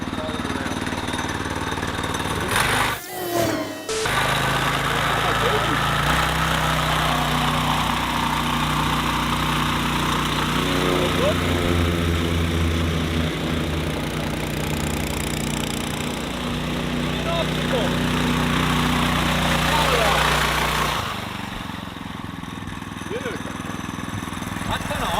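A diesel engine powering a tracked all-terrain mountain board runs loud and close, holding a steady, even drone for most of the stretch before cutting off near the end.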